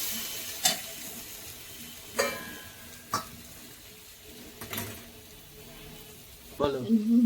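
Potatoes and eggplant fried in a pan for a pea-cake dhoka curry, with a soft continuous sizzle broken by about five sharp clinks and scrapes of a spatula against the pan.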